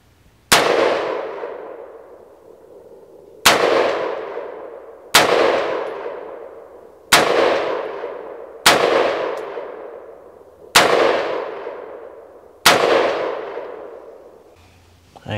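Rifle shots fired at targets outdoors, seven loud sharp cracks spaced a second or two apart, each followed by a ringing, decaying echo.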